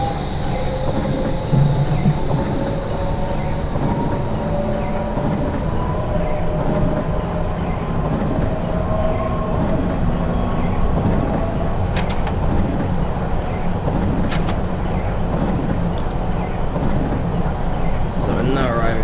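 A London Underground S8 stock train in Train Simulator runs into Harrow on the Hill station, a continuous loud rumble of motors and wheels on track with a steady hum, faint clicks and brief rail knocks, slowing as it brakes.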